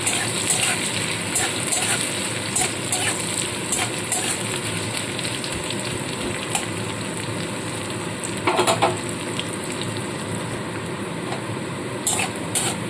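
Onion fries in oil in a pan, a steady hissing sizzle with intermittent spatula scrapes and stirring clatters, one louder burst of crackling midway, no talking.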